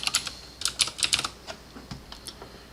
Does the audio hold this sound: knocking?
no